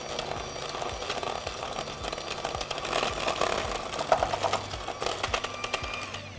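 An electric mixer creams granulated sugar into butter and cream cheese for eggless chocolate chip cookies, a steady close whirring motor with rhythmic rattling beaters that runs without pause and with no talk.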